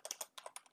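Quick, faint keystrokes on a computer keyboard tap out a short irregular burst of about eight clicks, close and alone.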